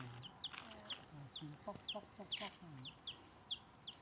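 A chicken clucks in a string of short, repeated calls at close range, with quiet background noise and a few faint voice-like sounds mixed in.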